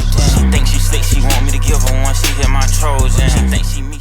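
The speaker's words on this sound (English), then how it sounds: "they used a really hard snare instead of a clap" Loud trap beat with booming bass hits and sharp, punchy snare cracks under a wavering melodic line, driving and dense.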